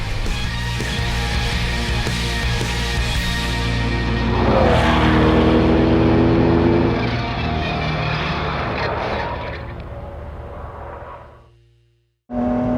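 A GT sports car engine revs loudly and steadily up close, rising to a harsher peak midway before easing off and cutting out near the end, then briefly resuming.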